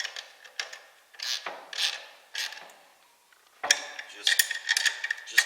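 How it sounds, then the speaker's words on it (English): A small 1/4 inch ratchet snugs motor mount bolts on a Chevy C10 squarebody, with close, quick bursts of metallic clicking separated by short pauses. "This is only a 1/4 inch ratchet."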